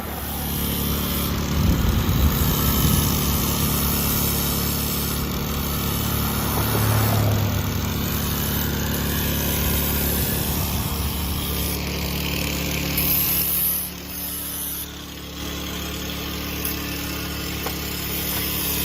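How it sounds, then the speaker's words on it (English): A generator running steadily at a raceweek event, a loud constant engine drone with a low hum that dips slightly around thirteen seconds before settling back. "We currently have the generator firing up, and John has the grinder out."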